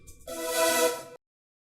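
A sustained, bright layered synth chord with a deep bass underneath swells for about a second, then cuts off abruptly into silence.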